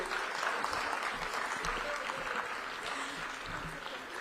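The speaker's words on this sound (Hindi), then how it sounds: "देखिए, तालियों पर कंजूसी मत कीजिए," Audience applause at a launch event for Rajasthan's first OTT platform: steady, dense clapping from a crowd, heard from some distance and fairly soft throughout.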